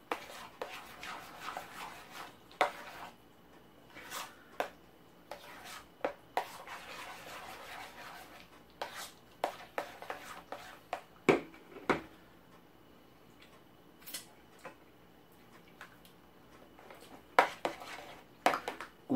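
Egg mayo sandwich spread is stirred in a bowl with a utensil, giving soft rubbing and scraping with irregular sharp clinks against the dish, close and fairly quiet.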